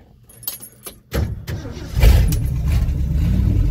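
Keys jangle briefly, then the 390 V8 engine of a 1966 Ford Fairlane cranks and catches, settling into a loud, steady running rumble.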